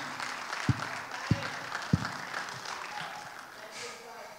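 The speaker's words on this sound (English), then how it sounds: "I think we need to give another round of applause." Wedding reception guests applaud after a round of speeches, a fairly faint, steady patter of clapping with a few sharp nearer claps standing out early on.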